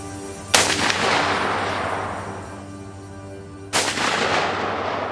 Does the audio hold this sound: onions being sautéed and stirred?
no